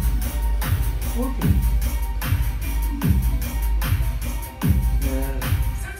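Dubstep track with its growl drop section taken out, leaving a steady pulsing beat of punchy low kicks and bright percussion hits repeating in a loop, loud and close, with a brief spoken word near the start.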